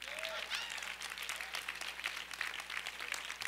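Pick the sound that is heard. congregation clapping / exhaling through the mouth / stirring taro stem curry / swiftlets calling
congregation clapping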